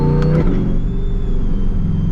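A Corvette C8 Z06 with a Lingenfelter supercharger and a loud aftermarket exhaust drones close by. A brief high whine drops away into a steady, deep engine rumble that holds for a couple of seconds with no talking.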